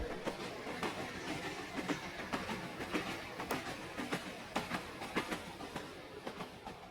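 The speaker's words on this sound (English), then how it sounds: "Just the dull clatter of metal on metal." Metal wheels clatter steadily over rail joints in a continuous rhythmic clack, with a low rumble underneath and no other sounds.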